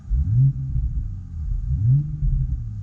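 A deep engine rumble from a 2020 BMW M340i xDrive in sport mode rises and falls twice, a low throaty growl swelling with each blip of the throttle, fairly close and without speech.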